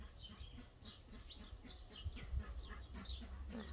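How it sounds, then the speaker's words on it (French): Birds chirp and tweet in the distance, several light calls scattered over a low steady background rumble, faint and continuous with no talking. "les oiseaux qui chantent"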